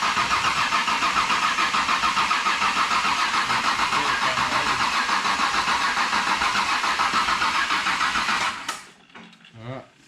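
A cammed Ecotec turbo engine cranks over steadily on the starter with injectors unplugged to build oil pressure, a loud continuous whirring drone that cuts off near the end.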